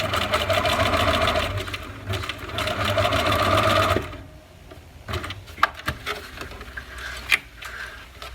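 A sewing machine stitches fabric for a McCall's M7580 garment in a loud, steady mechanical whir for about four seconds, then stops, followed by fabric handling and light clicks.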